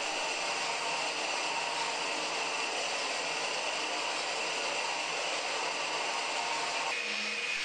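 A 2x72 belt grinder with a small wheel attachment runs on its first test, giving a steady close whirring hiss with no pauses, and a faint rubbing change near the end.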